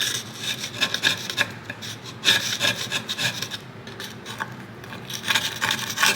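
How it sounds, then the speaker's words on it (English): Dropped glaze being scraped off a kiln shelf with a simple screwdriver, giving repeated rough, rasping strokes in an irregular back-and-forth rhythm, close and fairly loud with no talking. "or just a little scraping. I'm just using a simple screwdriver right now."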